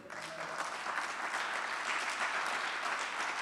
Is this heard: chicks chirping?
no